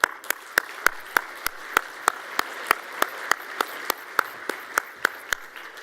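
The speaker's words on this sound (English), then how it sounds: "So please join me in making a huge round of applause for GECO," Hands clapping in a sharp, even rhythm at an awards ceremony for the climate control industry, loud and close, a single steady beat repeating about every third of a second with no voices over it.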